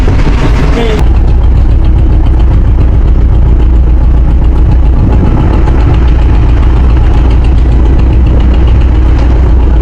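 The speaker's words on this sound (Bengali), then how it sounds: "এখনই ট্রলার স্টার্ট দিবে" A trawler boat's engine on a river trip through the Sundarbans near Mongla starts up about a second in and then runs loud and close, a steady heavy rumbling drone with rhythmic knocking throughout.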